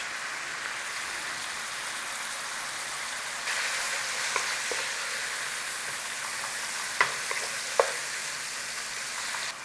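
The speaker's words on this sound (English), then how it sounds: "Cooking beef, onion and garlic." Beef, onion and garlic sizzle steadily in a pan, a soft, even frying hiss with a few brief clicks and stirring scrapes, heard up close and alone.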